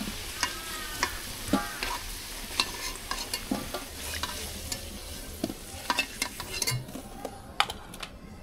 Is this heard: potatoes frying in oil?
yes